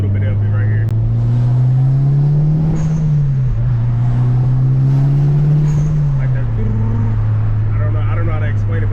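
Mitsubishi EVO 8 engine pulling up through the revs, a loud steady drone rising and falling with a fluttering turbo whoosh layered over it, close and continuous.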